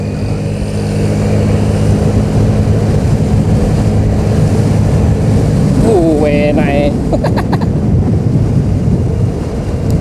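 A Vespa LX 150 3V scooter rides along an open road, with a steady engine drone buried under heavy wind rush on the microphone and a rider's voice speaking briefly over it.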